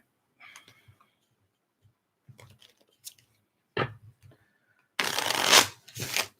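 Tarot cards shuffled in a few brief bursts, with a long loud riffling shuffle near the end, close and clear with no talk.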